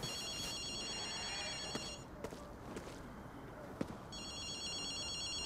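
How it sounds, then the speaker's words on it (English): A payphone rings in the Ghostwire Tokyo video game, its trilling electronic bell sounding in two bursts at the start and end, with a quiet stretch of footsteps and a few soft clicks between them. "That's a payphone."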